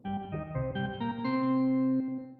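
A short synthesized melody of sustained tones rings out with spacious room reverb and pre-delay, notes blending into a lingering wash of reflections.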